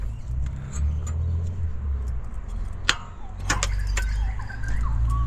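A car's ignition is cranked while the engine struggles to catch, with a low rumbling churn, a brief knock and jangling keys, up close and steady in level throughout.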